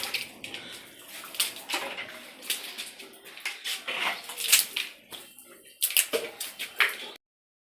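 Water is sprayed in bursts against a dry, second-hand plastered wall of a front portico to wet it before 3D wall tiles go on, making close, irregular splashes and hissing spurts that stop abruptly at the end.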